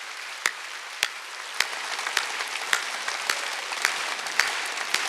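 A church congregation at a Sunday service applauds in a steady, even patter of many hands, with sharper rhythmic claps standing out at regular intervals.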